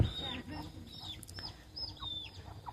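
A hen clucks repeatedly on a farm where breeding fowl are kept for eggs, with short rising calls close by and someone speaking over them.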